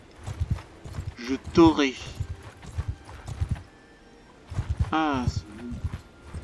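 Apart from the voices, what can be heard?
horses galloping in video game Mount & Blade II Bannerlord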